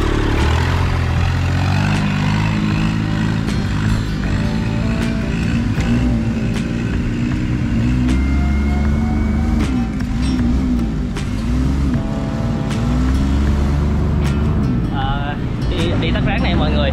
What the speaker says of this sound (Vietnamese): do mình nghĩ là do đi xuồng máy á, nó hơi ồn á